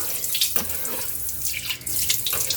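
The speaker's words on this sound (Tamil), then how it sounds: "அந்த க்ளீன் பண்ண இடத்த வந்து நான் லைட்டாக வந்து தண்ணி வச்சு நான் வாஷ் பண்ணி காட்டுறேன்" Water splashes and runs steadily over a scraped, salt-stained surface being rinsed clean, a continuous close hiss with small splashy bursts and no talking.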